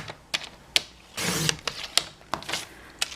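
A paper trimmer blade slides diagonally through folded card for a Christmas criss-cross card, giving a short, close scraping swish among light mechanical clicks and taps.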